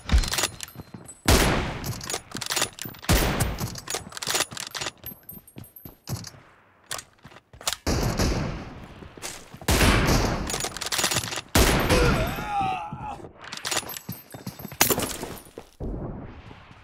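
Rapid bursts of automatic gunfire from a PUBG Mobile team deathmatch, loud and close, firing in repeated sharp volleys with short gaps between them and no talking.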